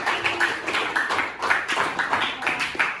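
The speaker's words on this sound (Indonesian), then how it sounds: "tepuk tangan buat kelompok 1" Students in an Indonesian religious-education classroom give group 1 a round of applause, clapping in a quick, regular rhythmic pattern that stays moderately loud and close.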